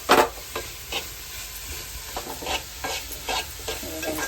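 Grated coconut being stirred as it fries in a pan for Malvani-style coconut laddu, giving a steady soft sizzle with repeated scraping strokes of the spatula at a close, moderate level and no talk.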